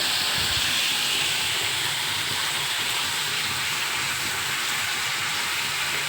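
Thinly cut potato strips fry in hot oil, a loud, even hiss that stays close and constant for several seconds with no voices over it.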